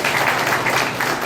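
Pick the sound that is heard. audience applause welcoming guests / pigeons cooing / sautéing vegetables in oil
audience applause welcoming guests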